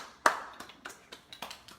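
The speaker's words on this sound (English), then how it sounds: "So can you call her, just clap your hands." Hands clapping to call a puppy at a puppy kindergarten class, one sharp clap followed by several lighter, quicker claps in an uneven rhythm, close by and alone.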